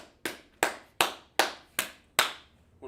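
Six sharp, evenly spaced handclaps at a steady rhythm, crisp and close, each with a short decaying tail, from a gathered audience at a church service, with no talking over them.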